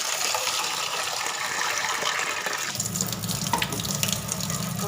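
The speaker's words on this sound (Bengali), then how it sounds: "চলো ডালটা ধুয়ে দিই।" Lentils (dal) are washed under a running tap: a steady stream of water gushes into a container, its splash deepening partway through as the water collects around the grains.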